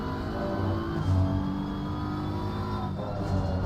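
BMW race car engine in the racing game Assetto Corsa Competizione at Laguna Seca, a steady mid-pitched drone that holds and shifts slightly, heard alone at a distance.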